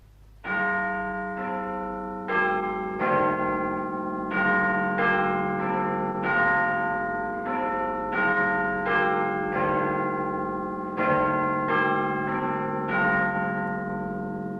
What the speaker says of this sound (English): Now, in just a few seconds, the chimes of Big Ben and the 10 o'clock news.